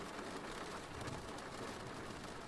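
Steady rain pours as a dense, even wash of hiss and patter behind a bedtime audiobook reading, soft and constant throughout with no pauses.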